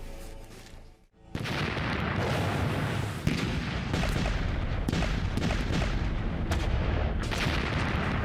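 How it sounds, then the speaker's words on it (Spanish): A World War I artillery barrage shelling German defenses along the Saint-Quentin Canal: dense, continuous rumbling gunfire with repeated sharp cracks and booms, heavy and sustained after a brief pause near the start. "La potente artillería de Monash pulveriza las defensas alemanas a lo largo del canal Saint-Quentin"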